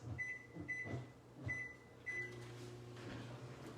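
Microwave oven in a home kitchen being set for two minutes to cook potatoes: four short button beeps in an even row, then a steady low hum as it starts running.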